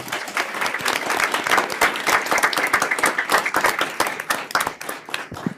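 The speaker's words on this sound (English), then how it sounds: "Let's have another round of applause for Dr." Applause from the audience at a board meeting: steady, dense clapping from many hands, fairly close and sustained throughout, with no voices over it.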